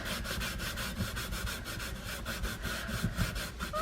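Cloth rubbing wood stain across a wooden surface, a soft continuous scrubbing with quick back-and-forth strokes repeating evenly, close and quiet with no talk.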